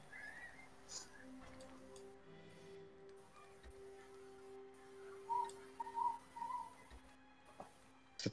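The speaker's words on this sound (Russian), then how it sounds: "Что это за свист?" Faint, thin whistling tones rise and fall in a short run of notes inside the strategy game Rise of Nations, over a soft ticking and a low in-game ambience.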